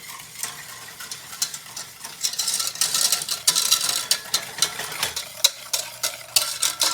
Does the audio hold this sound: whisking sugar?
yes